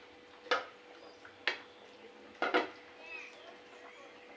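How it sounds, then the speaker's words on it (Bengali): Fish pieces dropped into a simmering pot of pumpkin curry, giving a few soft clattering thuds and splashes of pot and utensil contact, spaced about a second apart, near and moderately loud with no talk. "এই যে বন্ধু মাছটাকে দিয়ে দিচ্ছি"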